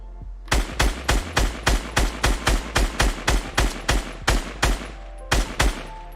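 Rapid, evenly spaced gunshots from a Fortnite weapon firing at crates in an aim-practice drill, about fifteen loud sharp reports with a brief pause before the last few, no talk.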